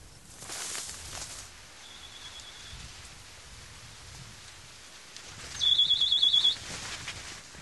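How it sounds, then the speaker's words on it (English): A rocket recovery sonic beeper chirps outdoors to announce its location, giving one short high tone and later a brief run of rapid chirps over soft rain-like background hiss. "the sonic beeper, which emits a chirp to announce its location"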